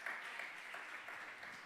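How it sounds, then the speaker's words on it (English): Audience applause at a live pitch event, a steady dense wash of clapping throughout, fairly faint and without talk. "big round of applause for AdBang"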